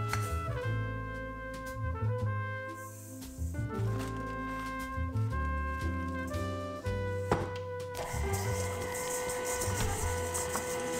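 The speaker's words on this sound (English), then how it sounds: "in our mixer, I'm just gonna cream together my butter and sugar" A stand mixer creams butter and sugar for whoopie pie batter, a continuous mechanical motor whir with shifting tones and rattling that runs the whole time without pause.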